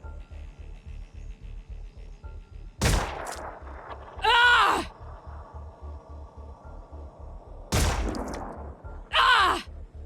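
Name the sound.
gunfire in video game Phoenix Point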